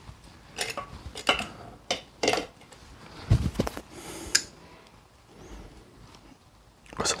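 A spoon presses and taps a chamomile tea bag against the sides of a glass, giving a series of close, sharp clicks and soft squishy presses in irregular rhythm with quiet pauses.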